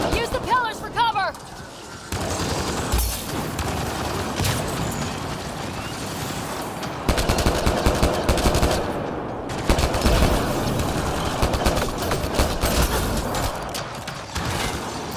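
Rapid automatic gunfire during Mass Effect Andromeda combat, continuous bursts close and loud, with voices talking over the shooting.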